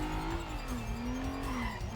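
A car in the video game Stuntman accelerates away, its engine tone climbing and sliding in pitch with some tire noise, loud and steady without talk.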